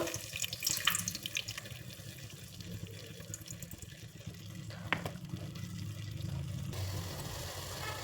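About three glasses of water are poured into a pot of dal sambar already holding tamarind juice, a continuous splashing, gurgling stream that swells and thins and then settles into a steadier pour near the end.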